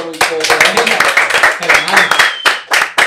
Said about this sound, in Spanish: ¿Se merece o no se merece un aplauso